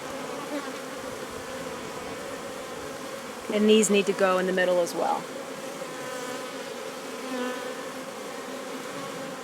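Steady buzzing of many honeybees at an open beehive fills the background throughout, with someone speaking briefly over the drone partway through.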